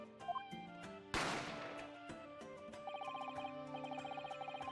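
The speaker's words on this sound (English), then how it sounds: "A gunshot rang out," A sharp gunshot sound effect bursts in The Great Ace Attorney Chronicles over the game's background music, a single loud crack that decays quickly, with no voices.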